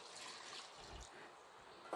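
Water pours quietly and steadily into a pot of country-chicken biryani, a soft continuous trickle heard close up and alone.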